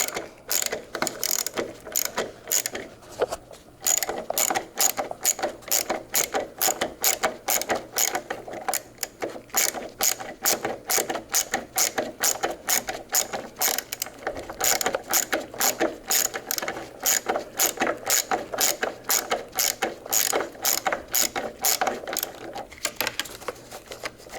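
A ratchet with an 8mm socket loosening the battery clamp on a Ford F150, a fast regular run of loud close clicks going on steadily for the whole stretch with only brief pauses, no talking.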